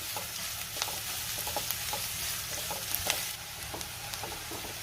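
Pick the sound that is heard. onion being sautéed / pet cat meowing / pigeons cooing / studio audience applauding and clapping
onion being sautéed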